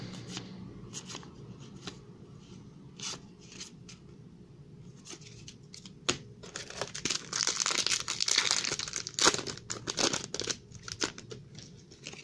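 Wrapped Topps Champions League 18/19 trading card packs are torn open nearby: soft handling rustles build into louder bursts of crinkling wrapper and sharp tearing, with no voices.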